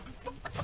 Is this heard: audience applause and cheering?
no